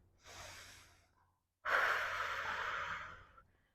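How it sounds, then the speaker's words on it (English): Deep breathing during a yoga squat in an outdoor flow session: a softer breath, then a brief pause, followed by a longer, louder, close exhale, with no talk. "nice deep breathing"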